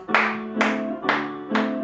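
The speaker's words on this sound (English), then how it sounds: "we've got claps for 8" A group at a seated music and movement session claps in steady unison, four sharp, evenly spaced claps over a sustained musical tone, close and distinct.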